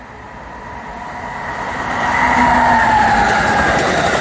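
Amtrak 148 passenger train led by an ACS-64 electric locomotive rolls past a station platform, a steady broad rumble building louder midway and holding close, with a faint whine over the rail noise and no voices.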